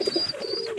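Pigeons in a loft give a brief soft coo, faint and close, with a thin high tone behind it.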